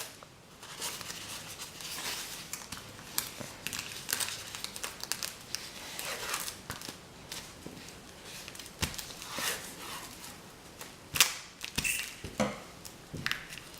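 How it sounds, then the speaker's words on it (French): Clear adhesive tape being pulled and pressed onto fabric-covered polystyrene, with crinkly rips, scratchy rubbing and taps close up, irregular and busy throughout. "Donc cette fois, on scotche l'autre côté."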